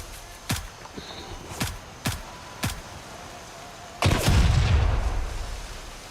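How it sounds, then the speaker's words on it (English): Video game combat with four sharp, distant reports at uneven intervals, followed by one loud, close grenade blast with a deep rumble that fades over about two seconds. "I'm gonna throw a couple of nades just for good measure."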